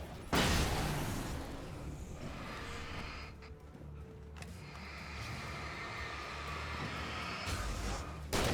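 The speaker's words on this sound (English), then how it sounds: "Flashbang." A flashbang grenade goes off in the video game Alan Wake: a loud, sharp blast right at the start that spreads into a long, harsh roar and fades slowly, with another burst near the end.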